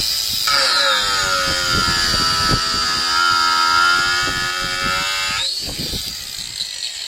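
A Parkside or AEG angle grinder spins at full speed, its high steady whine sagging slightly in pitch under load for about five seconds before easing, loud and close with scraping grit underneath.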